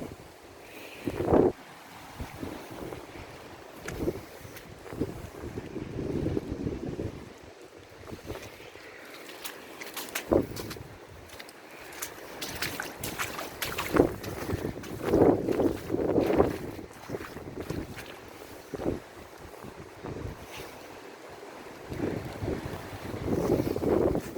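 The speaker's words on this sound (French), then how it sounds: "Vent, pluie, tempête." Gusty storm wind with rain buffets outdoors, rising and falling in uneven bursts, with a rough rumbling roar and occasional louder blasts.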